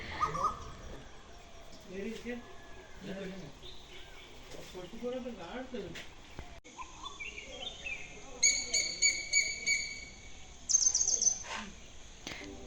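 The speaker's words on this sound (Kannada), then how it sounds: "ಸೂರ್ಯ ಉದಯ ಆಗ್ತಾಯಿತ್ತು ಹಾಗೆ ಪಕ್ಷಿಗಳ ಶಬ್ದನೂ ಅಷ್ಟೇ" Birds call and chirp in bursts at sunrise in a village, some high and shrill, with a voice talking quietly through the first half.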